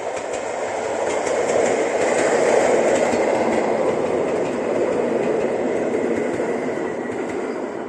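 A train rumbles past close by, its steady roar swelling to a peak midway and slowly fading, with faint rhythmic clatter of wheels on track.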